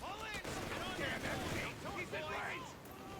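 Strafing gunfire in Company of Heroes 3 rattles in a dense continuous barrage with explosive booms underneath, mixed beneath busy battle noise throughout the short stretch.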